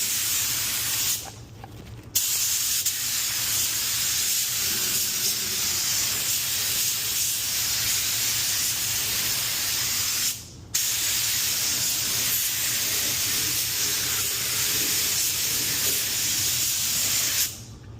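A spray gun hisses steadily and loudly while painting doors in a paint booth, with two brief pauses in the spraying and a constant ventilation rumble underneath.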